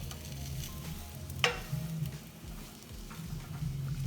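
A flipped southwest omelette sizzles steadily in a pan, a close, continuous frying hiss with one sharp scrape or tap partway through, and no voices over it.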